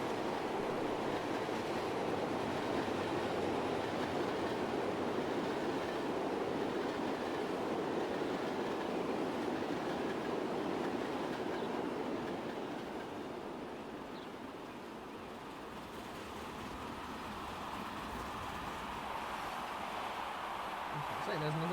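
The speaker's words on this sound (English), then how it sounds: "Okay, so there's another train there." Steam locomotives and their carriages rolling along a South Coast line in the railway game Transport Fever 2, with a steady rumbling wash of train noise that dips briefly midway, while someone talks over it.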